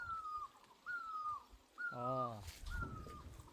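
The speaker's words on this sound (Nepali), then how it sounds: "साथीहरू चराको आवाज सुन्नुहोस् है।" Birds calling in a Nepali village, several clear falling whistled calls repeated at steady intervals with one harsher buzzing note, fairly distant and faint over quiet background.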